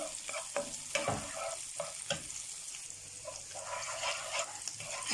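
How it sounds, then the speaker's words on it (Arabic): Onions frying and being stirred in a pan, a steady sizzle with scraping stirs, close and continuous. "هنقلب البصل كده لحد ما يذل معانا شويه"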